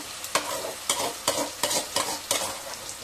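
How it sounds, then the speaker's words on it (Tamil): Masala frying with onions and tomatoes in oil in a pan, giving a steady sizzle broken by about six sharp scraping stir strokes at regular intervals, close and fairly quiet, with no talking. "இப்போ நல்லா எண்ணெய் பிரிஞ்சு வர அளவு வதங்கட்டும்"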